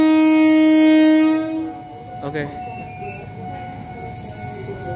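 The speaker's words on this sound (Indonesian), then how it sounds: "KRL JR205 diberangkatkan dari stasiun Keramat." A train horn blares loudly for over a second, then fades as a JR205 electric commuter train departs Kramat station, Jakarta, with rail noise and faint wheel squeal; a voice speaks briefly.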